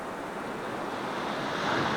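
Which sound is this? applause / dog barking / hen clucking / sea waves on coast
sea waves on coast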